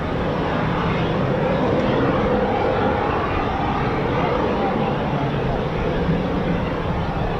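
A CV-22 Osprey tiltrotor with two Rolls-Royce T406 AD400 engines runs at an RAF base, giving a loud, steady, droning roar throughout while someone talks over it.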